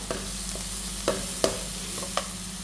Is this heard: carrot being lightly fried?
yes